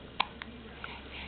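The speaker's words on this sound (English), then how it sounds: "Got the hiccups again?" A small child in pajamas hiccups quietly a few times at close range against a soft background.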